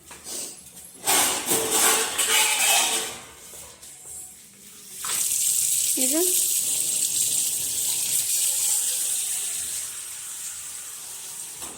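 Water splashes and gushes into a pot of homemade buffalo-milk ghee, a noisy running pour that starts, pauses briefly, then flows steadily again before easing off.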